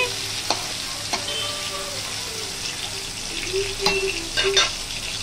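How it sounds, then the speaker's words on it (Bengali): Potato pieces fry in hot oil in a home kitchen alongside broken chillies, a steady soft sizzle with occasional clinks and scrapes of a utensil stirring the pan. "আলুটা একটু ভেজে নেব।"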